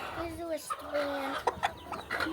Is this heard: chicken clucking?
yes